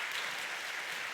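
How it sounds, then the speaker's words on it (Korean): A church congregation at a Sunday service applauds in welcome, a steady, even wash of clapping throughout with no voices over it. "우리 박수로 우리 환영하도록 하겠습니다"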